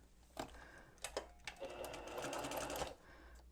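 A sewing machine stitches pieces of a Double Monkey Wrench quilt block together, quiet close whirring bursts starting and stopping a few times before one longer steady run.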